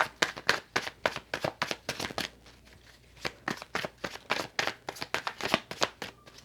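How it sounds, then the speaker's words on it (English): Tarot cards are shuffled in rapid, rhythmic riffling bursts with a short pause midway, close and fairly crisp, with no talking. "One more shuffle, and I'm taking the top 2 cards."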